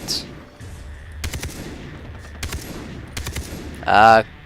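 Gunfire in the video game Far Cry 3 co-op, with several short sharp bursts spaced apart over a low background rumble, and a brief loud noise near the end.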